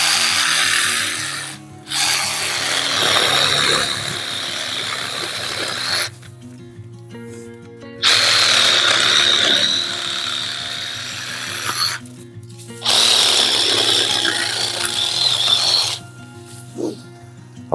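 A Parkside 12V cordless garden saw, model PAAS 12 B2, cuts through branches in three sustained rasping bursts of reciprocating blade noise over a motor whine, separated by short quiet pauses.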